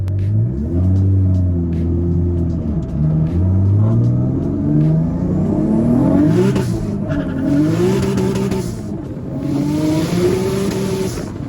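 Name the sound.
MK4 Toyota Supra 2JZ accelerating hard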